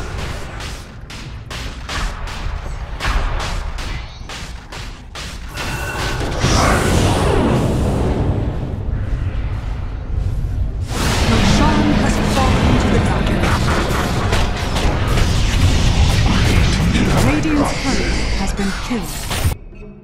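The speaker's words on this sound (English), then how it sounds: "Dire's bottom tower is under attack." Dota 2 gameplay with a tower under attack: dense, continuous clashing, impacts and crackling spell effects, building from scattered hits to a loud sustained battle din.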